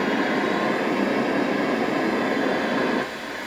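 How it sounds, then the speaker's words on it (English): An Atlas sound masking system emits a continuous broadband rushing hiss, warmer and lower than white noise, that stays steady and then drops slightly in level near the end. "Let's go to pink noise."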